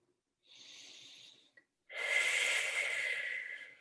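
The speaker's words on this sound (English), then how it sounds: "And always be breathing." Deep breathing during a movement and stretching exercise: a softer inhale through the nose is followed by a brief pause, then a louder, longer exhale, close to the microphone with no talking.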